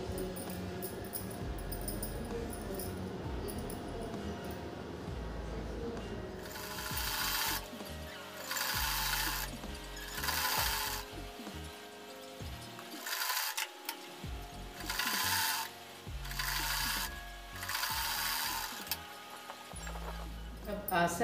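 A sewing machine stitches fabric for a skirt palazzo in several separate bursts of rapid mechanical whirring that start and stop, each lasting a second or two. Quiet gaps fall between the runs, and there is some background noise before the stitching begins.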